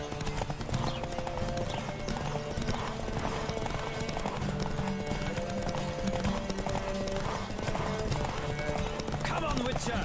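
Rapid rhythmic hoofbeats of a horse galloping in the Witcher 3 video game, a steady clip-clop running under game music and voices for the whole stretch.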